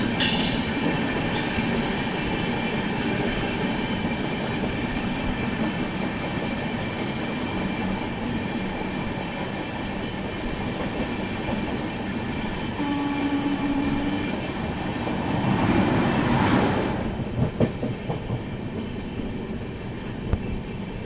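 Steady rumbling roar of the Poorva Superfast Express, train 12304, running at speed, heard from inside a 2nd AC coach, with a brief louder rush as it overtakes another express; no talking.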